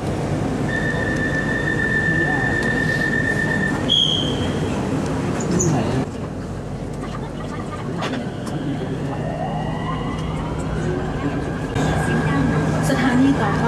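Bangkok MRT Purple Line train running between stations, a steady rolling rumble with rising and falling motor whines and a few high squeals, heard from inside the car beneath a recorded announcement voice.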